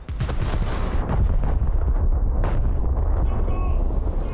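Heavy naval guns fire at a Fuso battleship in World of Warships, producing a continuous rumbling barrage of deep booms and explosions that sounds loud and close throughout.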